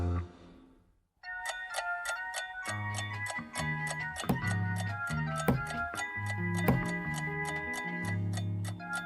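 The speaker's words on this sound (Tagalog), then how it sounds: "tumutunog ang orasan" Steady rhythmic clock ticking, evenly spaced and prominent, with chime-like ringing tones layered over it after a short quiet start; no voices.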